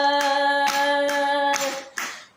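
Sharp hand claps, about five, struck in a slow steady beat by women along to a traditional Hindi wedding folk song, ringing under a sustained sung tone.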